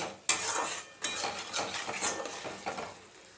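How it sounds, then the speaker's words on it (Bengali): Spice paste for a katla fish korma is stir-fried in a pan, with repeated metal spatula scrapes and clinks against the pan over a low sizzle, close and alone. "এবার মশলাটা আমি ভালো করে কষিয়ে নেব।"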